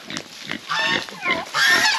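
Pigs on a farm, kept alongside chicks, grunt and oink in a series of close, loud bursts, with higher fowl-like calls mixed in.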